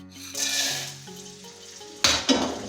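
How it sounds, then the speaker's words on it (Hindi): Edible gum (gond) is stirred in a pan of hot oil, a soft sizzle beneath a few sharp metallic clanks of a spoon striking the pan near the end. "और इसे भी लगातार चलाते हुए भून लेंगे।"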